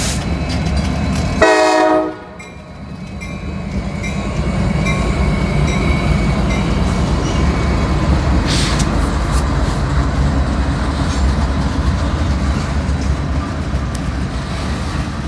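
A heavy CSX freight train on the Indianapolis subdivision gives a short, loud horn blast near the start. The long, steady rumble and clatter of cars passing close by then follows for the rest of the clip.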